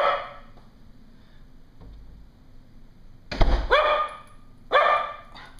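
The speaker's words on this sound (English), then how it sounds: "cocker spaniel. She loves to bark." A cocker spaniel barks close and loud at a doorbell, with one early bark, a pause, then two sharp separate barks.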